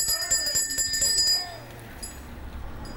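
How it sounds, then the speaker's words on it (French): A bell rung to signal the last lap of a women's bicycle race, a bright metallic ringing repeated rapidly for about a second and a half. It then fades into crowd noise. "La cloche, c'est le dernier tour."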